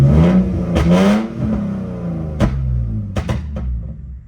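A BMW E46 drift car's engine, with cylinder 6 misfire and O2 sensor faults after a VANOS rebuild, revs up in several sharp bursts, rising and falling in pitch between short pauses, close and loud.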